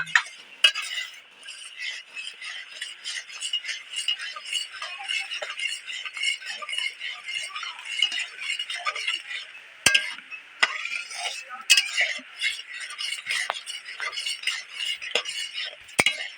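Mango pickle stirred in a pan makes repeated scraping and clinking strokes of a utensil against metal, steady and close, with a faint sizzle underneath and no voices.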